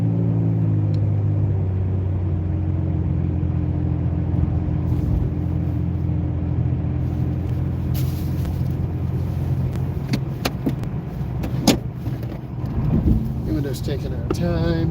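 A car's engine rumbles low and steady while pulling out of a turn on a night drive, the tone gradually building, with brief clicks and a voice talking over it.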